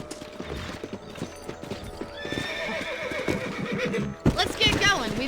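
Horses in Red Dead Redemption trotting with a steady clip-clop, followed by loud, close neighing near the end, while characters talk over the hoofbeats.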